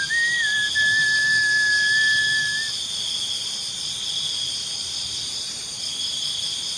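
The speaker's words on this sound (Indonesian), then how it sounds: "suara siulan yang terekam jelas pada mikrofon ponselnya" A thin high whistle heard at night through a phone microphone, a single sustained tone lasting about two seconds over a steady bed of insect chirring.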